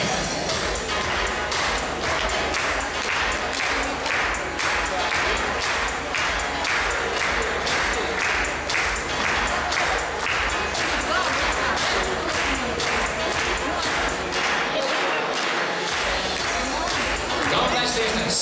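Applause from a dance competition audience welcoming the judges at Mirada Cup 2017, a steady dense patter of clapping that runs nearly unbroken throughout, with a brief dip near the end.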